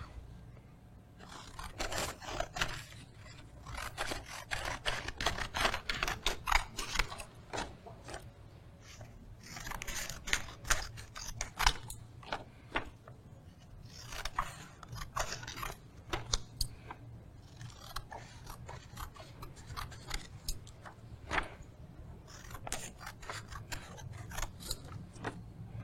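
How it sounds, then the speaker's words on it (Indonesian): Scissors snipping a paper picture of Jesus for a children's Sunday school craft, a long run of close, irregular crisp cuts and paper rustles at a moderate level. "menggunakan gunting untuk menggunting gambar Tuhan Yesus ini"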